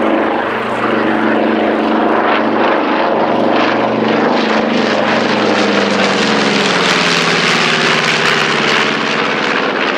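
B-25 bomber flying at an airshow, a loud, continuous propeller-engine roar that holds steady and slowly shifts pitch as the aircraft passes, close and dominant.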